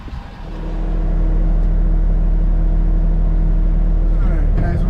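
A vehicle driving on the road, a steady low engine and road rumble that swells over the first second and then holds loud and constant, with faint talk underneath.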